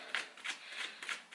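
Tarot cards are riffled and shuffled in four quick, crisp bursts, close and fairly quiet, with no talking.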